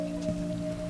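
Steady rain falls outdoors as a constant soft hiss over a low background hum, faint and unbroken for about a second, with no talking.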